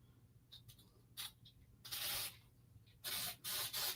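An aerosol spray sounds in short hissing bursts: a couple of brief puffs early, then a longer sustained spray, followed by three strong bursts near the end, close and fairly loud over a quiet background.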